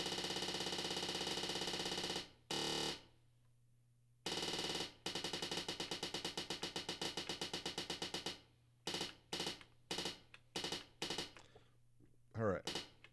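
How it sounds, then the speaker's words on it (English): Machine-gun stutter rolls from drum sequencer retrigs, with rapid bursts of repeated hits in several blocks separated by short gaps, loud and synthetic, with no voice over them. "So there's your machine gun."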